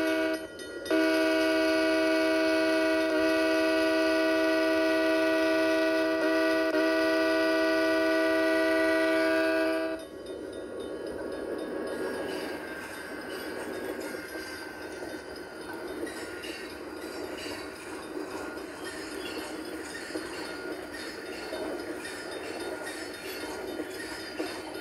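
In a rail yard simulator game, a train horn sounds in long sustained blasts for about ten seconds, then gives way to a steady rumbling rail noise as the train rolls nearby.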